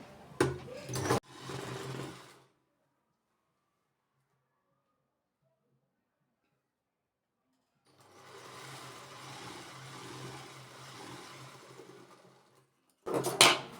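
A sewing machine stitches a sleeve onto a short kurti in close, steady whirring runs, with a short burst at the start, a long silent pause, then a long run and another brief burst at the end.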